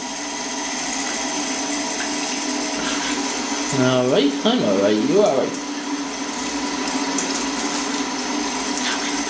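Steady broadband shower spray runs throughout while Harley the dog is bathed, with a person briefly talking over it partway through.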